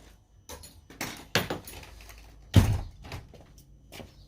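A door is pushed shut with one solid thud after some lighter rattles and knocks, close by in a quiet room.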